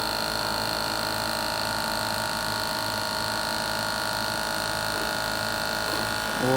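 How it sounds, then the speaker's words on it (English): A Land Rover Discovery 3 suspension air compressor runs steadily, a continuous buzzing electric hum with high whine, holding even level throughout with no voices. "So compressor's on."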